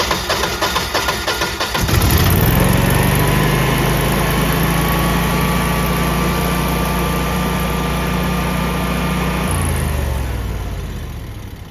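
A Generac 22 kW standby generator being run in manual mode while showing a fault code cranks and catches at about two seconds. Its engine then holds a steady, loud idle-like drone before shutting down and winding off near the end.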